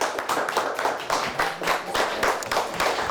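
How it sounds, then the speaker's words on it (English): A round of applause for the winning Atlanta team on a televised quiz show, steady clapping from a small studio audience that stays close and even throughout. "so let's give them a nice round of applause."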